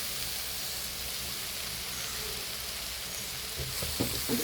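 Chili powder sizzling in hot oil for a coconut-based beef curry, a steady broadband fry hiss throughout with a few faint stirring knocks near the end.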